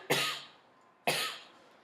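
Two sharp coughs after sipping water during a clinical swallowing assessment, spaced about a second apart, close and fairly loud, each fading into a short breathy tail.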